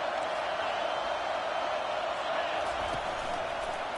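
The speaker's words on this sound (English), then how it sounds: "Decibels rising as the crowd gets behind this defense on third down." A football stadium crowd in an Oklahoma versus LSU game roars on third down as a steady, dense wash of cheering and noise that stays loud and unbroken throughout.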